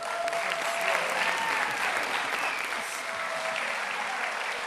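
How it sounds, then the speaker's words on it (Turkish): A studio audience at a Turkish televised singing competition applauds after a duet, dense continuous clapping, loud and even from start to finish with no voices standing out. "Alkışlar"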